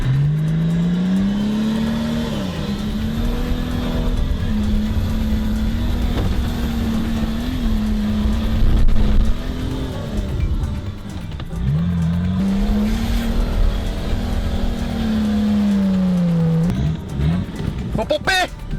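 A car engine revs hard and steadily, held high for long stretches with brief dips, while the clutch no longer works; a few tire-squeal-like tones come near the end, and people talk over it.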